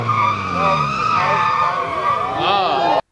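Car tires skid and squeal at a racing event on a main course, a loud sustained screech with a wavering pitch over engine noise, cutting off abruptly at the end.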